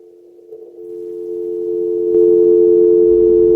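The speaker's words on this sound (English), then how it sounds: "There's the dial tone." A telephone dial tone, a steady unbroken hum that grows gradually louder and continues alone.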